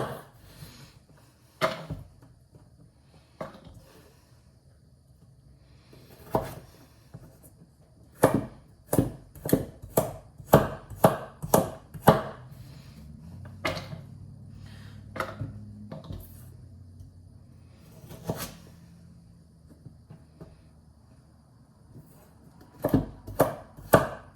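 A knife chops vegetables such as carrots into small bite-sized pieces on a cutting board for veggie pasta: crisp, close knocks, first sparse, then a fast run of chops, then scattered cuts again.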